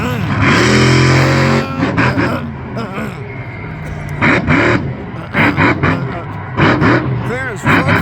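Chevy monster truck engine roaring at Elko Speedway: a loud, rough, distorted engine roar surges and fades amid crowd noise, with a voice shouting over it.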